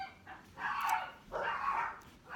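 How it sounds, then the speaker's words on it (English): Dogs bark inside a house, two muffled, drawn-out barks or howling yelps sounding from another room, faint and somewhat distant against a quiet background. "Excuse the dogs."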